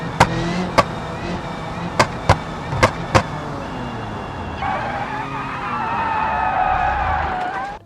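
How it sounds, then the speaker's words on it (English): Tires on a fast street car with a dogbox gearbox lock up and skid, with a string of sharp clacks followed by a rising, wavering squeal, fairly close and loud with no talking. "lock the tires up, you can spin the car out."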